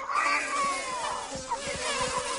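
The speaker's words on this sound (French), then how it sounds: "L'essaim d'abeilles poursuit la hyène." A swarm of bees buzzing in an animated film, a dense, wavering drone of many insects at close range with pulsing wingbeat texture.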